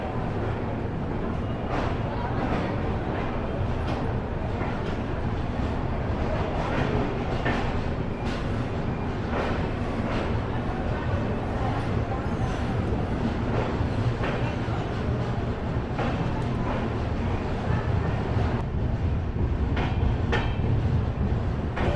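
A Bihar Sampark Kranti express train running, heard from inside an AC second-class coach: a steady, continuous low rumble and rattle of the carriage with faint periodic track clicks throughout.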